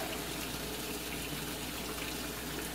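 Water rushes steadily into a washing machine as it starts on a large, regular load, a constant close gushing hiss with no voices.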